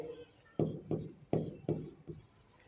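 Chalk or marker strokes on a classroom board while a math problem is worked out, five or six quick scraping strokes in an uneven rhythm, close and fairly quiet.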